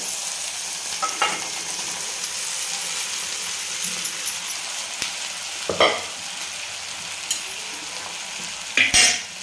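Sabudana being stirred into softened potatoes and tomatoes in a pan for fasting khichdi, with a steady low sizzle and occasional spoon scrapes and clinks against the pan, close by with no talk.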